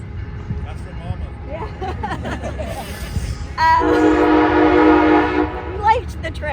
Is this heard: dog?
no